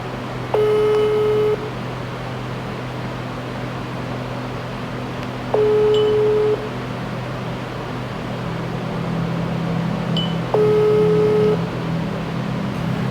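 A repeating telephone tone sounds three times, each beep about a second long and spaced several seconds apart, over a steady hissing background.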